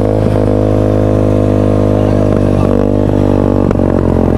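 A motorcycle engine with a carburetor fuel overflow problem runs loud and close, a constant steady drone with some faint clattering ticks on top.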